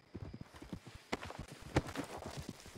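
Horse hooves clip-clop at a walk in the video game Red Dead Redemption 2, a steady, fairly quiet rhythm of soft thuds with a couple of sharper, louder knocks standing out.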